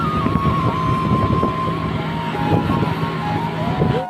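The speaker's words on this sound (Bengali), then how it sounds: "গাড়িটার শব্দটা শুনো" A vehicle's engine drones steadily while riding at speed, with wind rush blowing over it and a continuous, loud, unbroken roar throughout; no talking.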